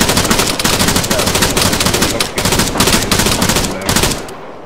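Rapid video game gunfire crackles almost continuously, with dense bursts of machine-gun fire and infantry and sniper shots all close and loud, while players talk over it.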